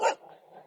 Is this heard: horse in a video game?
no